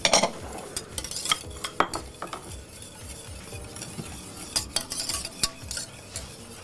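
A utensil scrapes and clinks against a pot while hydrated gelatin is stirred until it dissolves, with irregular taps and swirls continuing steadily and close by.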